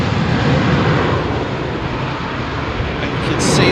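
Aircraft engine roar on the runway at London Heathrow Airport in hazy, smoky conditions, a steady loud broadband rumble running throughout with no clear pauses.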